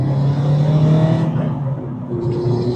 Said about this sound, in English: you'll be able to hear the exhaust leak right under the gearbox